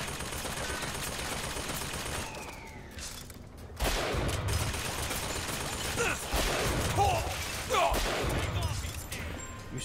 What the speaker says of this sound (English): Even though I was clearly shooting it.